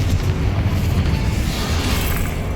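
A Confringo spell explosion in the Hogwarts Legacy video game: a loud, dense, low booming blast that rumbles continuously for a couple of seconds, heavy in the bass.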